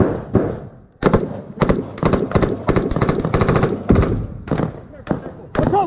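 Close-quarters combat: gunfire is aimed at a building window in bursts of loud, sharp rifle shots. Some shots come singly, others in rapid strings, and gaps of shouting voices fall between them.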